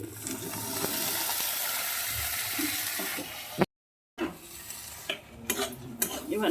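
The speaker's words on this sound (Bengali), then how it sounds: "এবারে আমি সেদ্ধ করা রাখা ডালটা দিয়ে দিচ্ছি" Boiled dal is tipped into fried spice masala and stirred, giving a wet, sloshing sizzle with spoon scrapes against the pan, broken by a brief dropout midway before the stirring resumes with louder knocks.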